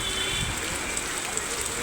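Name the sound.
heavy rain falling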